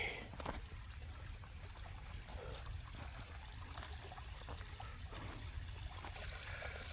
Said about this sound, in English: Someone built this waterfall just for me. And you can hear it.